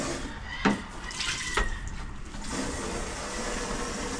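Tap water running steadily while something is washed, with a couple of louder splashes near the start, at a snake rescue beside a water meter box; faint voices are in the background.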